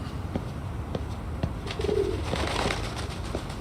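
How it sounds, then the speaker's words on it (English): Pigeons cooing on a rooftop in the video game Lost Judgment, soft repeated coos over a steady ambient hum, fairly close and moderately quiet. "What's up, birds?"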